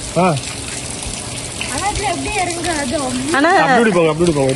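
Water gushes steadily along an irrigation canal beside rice paddy farm fields, a continuous rushing flow heard close by beneath people talking.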